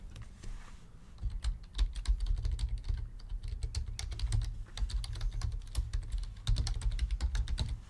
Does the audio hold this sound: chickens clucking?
no